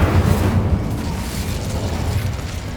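An Incendio fire spell from Hogwarts Legacy erupts as a loud, rumbling whoosh with a booming burst at the start, then a steady roar that holds for about three seconds with no talking.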